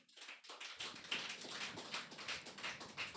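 A church congregation at Sunday worship clapping hands in a quick steady rhythm, many sharp claps merging into a continuous pattern, heard from a slight distance with no talking.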